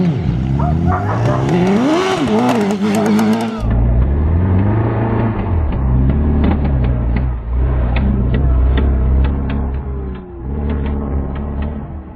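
A motor vehicle the owner is riding, its engine revving loudly up and down with rising and falling pitch, then settling into a heavy, steady rumble with intermittent throttle blips, close by.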